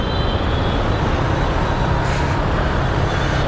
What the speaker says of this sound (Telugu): హైదరాబాద్ రోజు చాలా ట్రాఫిక్ అయిపోతుంది